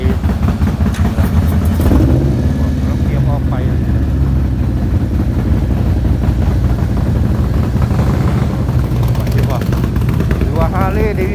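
Big bike motorcycle engine running steadily in the background, a loud continuous rumble under a man's speech throughout.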